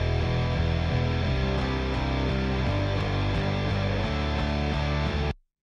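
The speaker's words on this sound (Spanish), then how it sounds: "tenemos aquí un bajo eléctrico que suena más o menos así" Electric bass playing a simple, minimal line, steady and fairly loud with other parts of the mix around it, stopping abruptly at the end.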